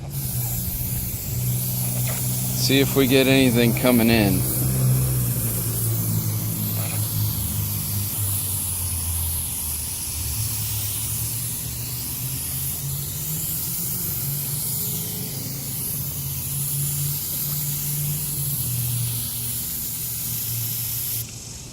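A garden hose sprays a light water mist onto a car, making a continuous close hiss that holds steady for the full length, with a brief spoken remark near the start.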